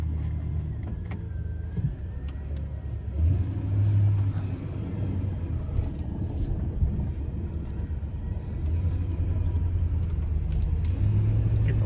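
A truck drives along a road in Maine, giving a steady low engine rumble that swells and eases as it accelerates, heard from inside the cab with occasional faint rattles and no talking.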